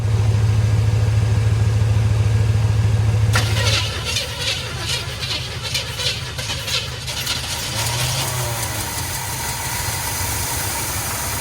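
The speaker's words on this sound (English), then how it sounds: "Oh, she's not happy. She's stumbling, just sitting there turning over." Small-block Chevy V8 in a 1970 C10 pickup idling roughly and stumbling, loud and close with a heavy uneven low rumble, settling into a rattling, faltering idle after the first few seconds.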